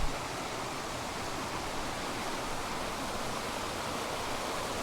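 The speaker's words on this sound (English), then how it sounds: "You can see more water features here as the water comes cascading round." Water cascades down a brook in Padley Gorge in the Peak District, giving a steady, even rush that stays constant and fairly loud with no breaks.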